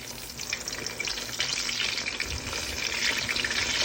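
Eggplant slices fry in a pan with a steady, dense sizzle and crackle that grows slightly louder toward the end, with no talking.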